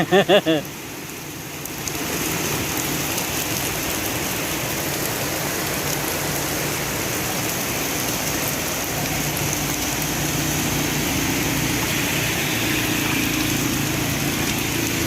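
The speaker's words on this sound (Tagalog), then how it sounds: "sobrang lakas ng ulan" Heavy monsoon rain pours in a dense, constant roar, with a brief voice and a few sharp sounds at the very start.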